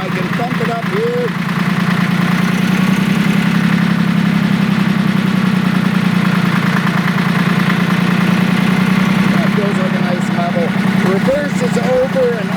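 A vintage Porsche tractor engine idles steadily after cranking, a loud, close, low throbbing drone that runs throughout, with a voice talking faintly over it.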